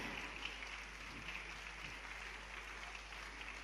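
Steady, continuous applause from an audience welcoming guests on stage at a ceremony launching a helicopter tourism service in Madhya Pradesh, heard fairly faint and distant throughout.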